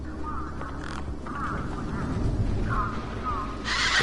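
A large bird quacks in the video game Beyond a Steel Sky, giving a few nasal, duck-like calls over a steady ambient hum, with a brighter burst of noise near the end.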